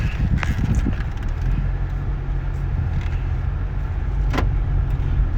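A 2015 Honda Accord with 32k miles reverses out of a bank parking spot, a steady low engine hum and road rumble from inside the cabin with a couple of brief clicks.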